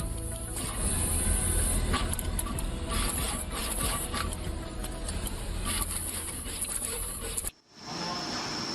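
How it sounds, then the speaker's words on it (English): Pick-and-place machines placing through-hole parts onto a printed circuit board during factory assembly give off a steady, dense mechanical whirring and clatter that runs loud and unbroken, then cuts out briefly near the end before resuming. "the TST parts are placed and soldering through the holes using pick and place machines"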